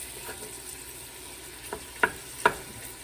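Lamb meat for a Southern Indian curry sizzles steadily in a pan, with a few sharp clinks of stirring utensils rising above the frying hiss.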